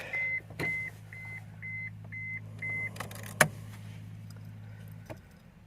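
A Mazda 323C sounds a repeating electronic chime for a key left in the ignition, about six evenly spaced beeps over a steady low idle hum, with a sharp click near the end.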